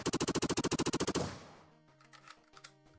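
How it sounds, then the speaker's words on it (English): A minigun in the video game Gooober Acres fires a fast, loud, evenly spaced burst of about fourteen shots, then stops abruptly, leaving a decaying tail and quiet game sounds. "Then we got a minigun."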